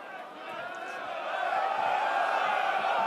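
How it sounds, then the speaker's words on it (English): A rugby stadium crowd at a Toulon Top 14 match groans in disappointment, a broad swelling murmur of many voices that grows louder and holds. "Crowd disappointed."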